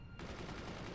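Sniper gunfire in the artillery strategy game Forts, a dense burst that starts abruptly and keeps up loud and sustained, with no talking.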